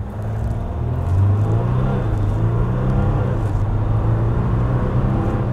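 A 2020 Jeep Wrangler Unlimited Sahara EcoDiesel with a 3-liter turbo diesel V6 accelerates hard, giving a steady, loud low rumble and drone heard from inside the vehicle, with no voices.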